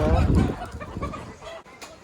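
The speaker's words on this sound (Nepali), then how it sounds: "हाँसको बच्चाहरू लोकल कुखुराहरू पनि पाउँदो रहेछ यहाँनिर" Chickens cluck and squawk close by amid busy voices at a local market, a crowded, lively mix of fowl calls and chatter.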